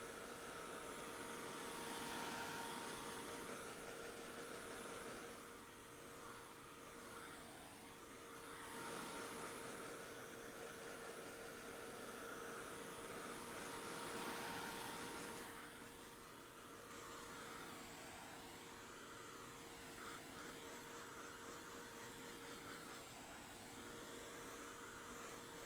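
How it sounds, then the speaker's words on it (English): Heat tool blowing hot air to dry an art journal page, a steady whirring roar with a faint tonal whine that swells and dips slightly as the tool is moved around, continuous and close with no talk. "when I'm drying, I'm moving the heat tool around"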